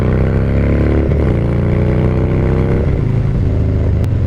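A Harley-Davidson Dyna Low Rider S (FXDLS) motorcycle engine runs with a loud, steady low rumble that shifts in pitch a few times, heard up close with no talk.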